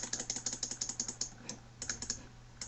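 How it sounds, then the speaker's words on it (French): Rapid computer mouse clicking during a Minecraft UHC Run match, a dense run of sharp, close clicks in quick irregular bursts with brief pauses, no talk over them. "Vous entendez tous ces clics de souris."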